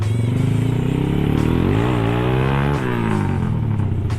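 A Kawasaki Ninja SS two-stroke touring motorcycle engine revs loudly and close by, its pitch climbing and falling in sustained throttle sweeps with a buzzing, rattly tone.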